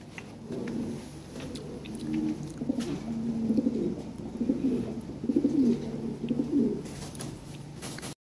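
Lahori pigeons at a pigeon fair give repeated soft, throaty coos in rhythmic low phrases, close by over a murmur of background noise.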